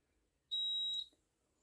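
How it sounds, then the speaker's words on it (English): A single short electronic beep from a fire alarm panel buzzer, high and piercing, lasting about half a second in an otherwise quiet room. "And now I can mute the buzzer"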